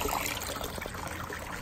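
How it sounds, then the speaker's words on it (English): Water flows out of a hose from a solar heating panel into a Coleman above-ground pool, a steady close trickle and splash that runs on evenly throughout with no talking. "So there's the water that's flowing out."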